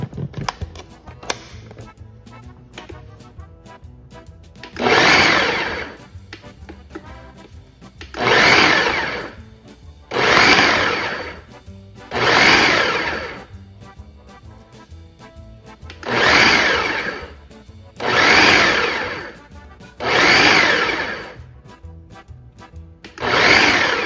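Keto olive spread for a muffaletta whizzed in a food processor: seven loud, even bursts of whirring blending, each a couple of seconds long, separated by short pauses with faint kitchen clatter between.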